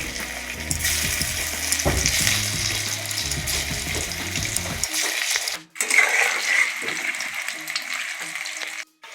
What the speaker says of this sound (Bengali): বাকি ফুলকপিগুলো ভেজে নেব